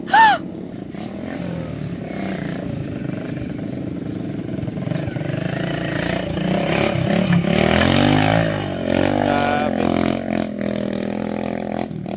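A motorcycle engine revs and roars up close, rising and falling in pitch over several seconds with a steady rumble and some clatter.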